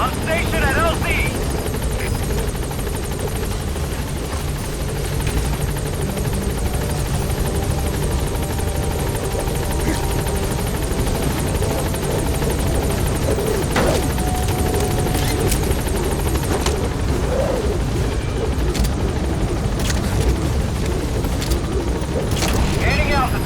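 Pequod's helicopter in Metal Gear Solid 5 arriving at a landing zone: a loud, steady rotor drone with whining engine tones runs throughout, with radio voices speaking over it and occasional sharp impacts.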